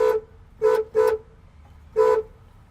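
An improvised horn fitted to a 1967 car honks four times: a short toot, then two quick toots close together, and after a pause one more, each bright and nasal, loud and close, with no talking.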